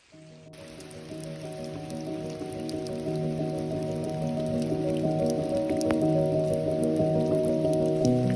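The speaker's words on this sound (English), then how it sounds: "The rain is starting." Rain begins falling in a forest on the Ice Age Trail, a steady, even patter on leaves and ground that swells gradually and sits beneath a sustained, droning tonal layer.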